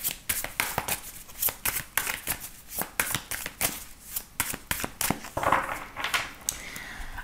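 Tarot cards being shuffled and cut by hand, a fast run of crisp riffling slaps and flutters repeating steadily at close range, with no talking.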